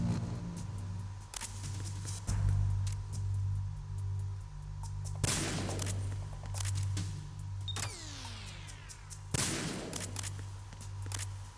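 A USP pistol in Metal Gear Solid 2, fired on the tanker, cracks out a few separate sharp shots over a steady low hum, mixed with scattered game effects.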